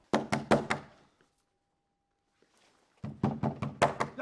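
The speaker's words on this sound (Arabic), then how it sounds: "يا عم تكسر الباب، في إيه؟" Heavy pounding on a door in two bursts, loud thumping blows in quick rhythm, then a pause of near silence before another rapid volley.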